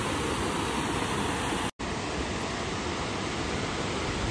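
River water rushing over and under a weir, a loud continuous broadband roar close by, steady throughout with one brief dropout.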